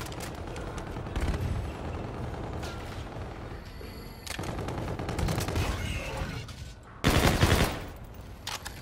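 Sustained gunfire in Call of Duty: Infinite Warfare during a hardcore team deathmatch: continuous rattling automatic bursts with booming impacts and a loud, sharp volley near the end.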